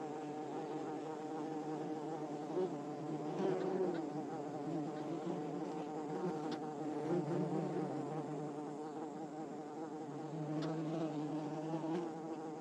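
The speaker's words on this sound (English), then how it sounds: "Worker bees come and go, while some are charged with guarding the entrance to their home." Many worker bees buzz continuously at close range at a hive entrance, a dense droning hum that swells and fades slightly, with no voices.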